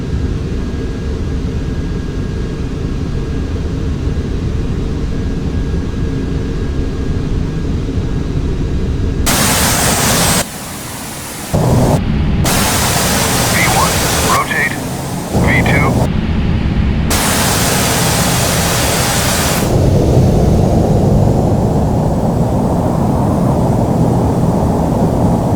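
A Boeing 747 rolling down the runway for takeoff in Flight Simulator X, a steady, loud jet engine roar and broadband rushing noise that swells and cuts in and out in sections, with talk over it.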